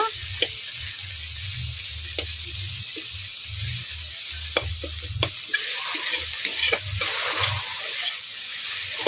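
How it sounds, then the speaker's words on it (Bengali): Okra frying in oil in a wok, a steady sizzle throughout with repeated scraping and stirring strokes and low clunks of the utensil against the pan, close and moderately loud. "তেল দিয়ে এগুলোকে হালকা করে আমি ভেজে নেব।"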